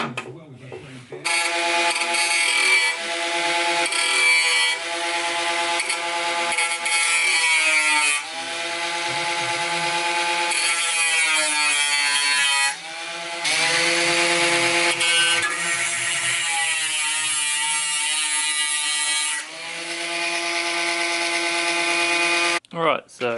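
Cutting and trimming an RB25 engine sump, a long sustained rasping saw-like grind of steady loudness with several brief pauses, with a voice talking over parts of it.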